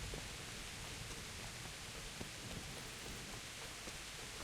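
Heavy video-game rain in Kingdom Come: Deliverance pours steadily as a dense, hissing wash of noise with scattered drop patters, faint and continuous, no voices.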